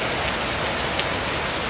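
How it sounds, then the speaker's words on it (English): Heavy rain pours in the Jamaican countryside, a dense, unbroken wash of loud hissing patter on surfaces with no pauses and nothing else standing out. "Lot of rain in the countryside."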